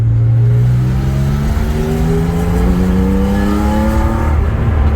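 Porsche 911 outlaw build with a lightened, fairly stock 3-litre flat-six revving hard and climbing steadily through the gears, a loud, continuous close-up engine scream with rising harmonic pitch and no talking.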